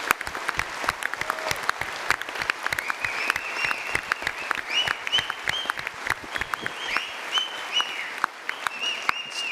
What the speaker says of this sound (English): give every candidate here a round of applause